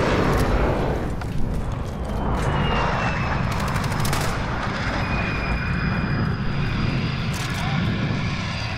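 Loud, sustained jet roar from a hovering VTOL aircraft in Call of Duty: Modern Warfare, with bursts of gunfire crackling over the constant engine drone throughout.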